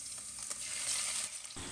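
Onion, green chili and ginger fry in hot coconut oil, a close, continuous sizzle with brief stirring scrapes and no voices.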